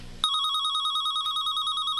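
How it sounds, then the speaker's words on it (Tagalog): Telephone bell ringing in a room, a single sustained electronic ring starting abruptly and continuing steadily, clear and close with no talk over it. "Oh, ang telepon."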